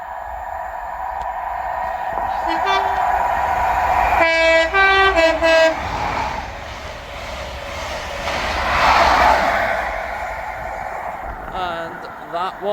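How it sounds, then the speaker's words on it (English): The ScotRail passenger service from Aberdeen to Glasgow Queen Street passes through Monifieth with a loud, close rumble. Several short horn blasts sound early in the pass, followed by rattling wheel noise that swells and then fades. "Passing through now is the 1636 Scotrail service from Aberdeen to Glasgow Queen Street."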